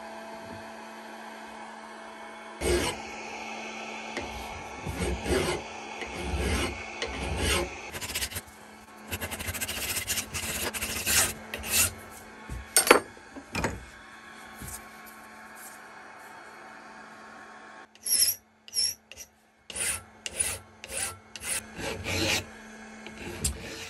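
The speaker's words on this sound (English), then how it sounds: "we'll just do a wee bit of filing here" Small metal plate being filed for a Record No 44 plough plane depth stop, with bursts of rasping strokes in uneven runs close by and brief pauses between sets of strokes.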